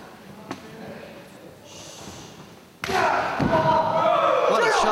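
Heavy impacts land in a 2005 wrestling match between two wrestlers: a sharp thud early on, then a loud burst of crowd roar and ringside commotion as a commentator talks over the action.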